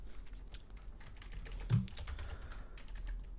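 Computer keyboard typing a command, a brief run of soft, close key clicks with one slightly louder tap in the middle.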